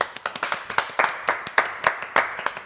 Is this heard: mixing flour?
no